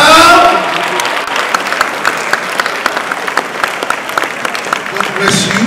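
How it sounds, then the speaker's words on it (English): Crowd applauding award winners at the 2020 Lagos Fashion Show: continuous loud clapping from many hands with a few sharper individual claps standing out, a voice heard briefly at the start and end. "Clap, clap, clap now."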